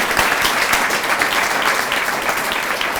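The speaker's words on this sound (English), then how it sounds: "please join us in giving us a final round of applause to Gordon" An audience at an anniversary event gives a final round of applause to a departing speaker, a dense, steady clapping that fills the room at full strength throughout with no voices on top.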